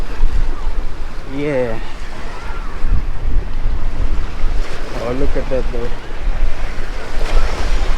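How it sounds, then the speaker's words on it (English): Ocean waves roll in on a busy Australian beach during the Christmas season, a steady surf wash with wind buffeting the microphone and people talking briefly over it. "The water is coming in."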